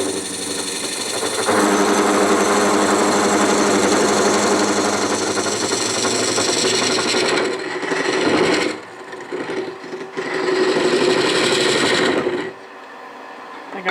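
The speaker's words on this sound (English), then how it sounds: "my lathe is not really fastened to this stand, which normally is not an issue. In this case, it causes a little bit of rattling the whole lathe" A wood lathe runs loud and steady while its whole body rattles on a loose, unfastened stand, a rough rasping buzz that dips briefly twice near the end before settling to a quieter hum.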